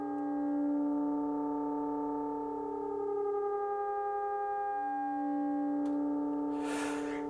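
Four synthesizer oscillators hold sustained tones while slightly frequency modulating each other, forming a steady, layered drone with slow wavering pitches and a brief noisy burst near the end.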